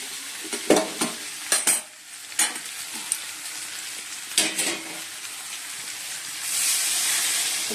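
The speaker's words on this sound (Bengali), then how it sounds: "এবার গরম জলটা দিয়ে দেবো" Chicken and potatoes frying in a pan, with several sharp utensil clanks and stirring scrapes over a steady sizzle, then a louder hiss as hot water is poured in near the end.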